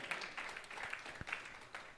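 A church congregation claps together in thanks to the Lord, a soft, dense patter of many hands lasting a couple of seconds, fairly faint and distant.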